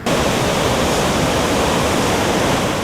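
Floodwater surging through a city street during heavy flooding, a dense, constant roar of rushing water that starts abruptly and stays loud and unbroken with no voices over it.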